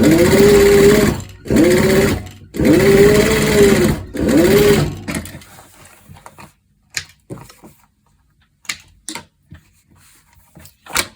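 A sewing machine top stitches a seam on a leather corset, running loud in three steady bursts with brief pauses, then giving way to scattered quiet handling clicks and taps.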